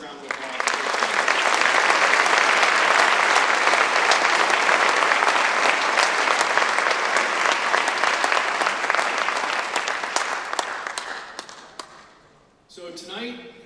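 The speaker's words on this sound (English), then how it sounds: "let's give a massive round of applause." Sustained, loud applause from an awards-night crowd at a county sports champions celebration, a steady wash of clapping for about eleven seconds that tapers off before a voice speaks.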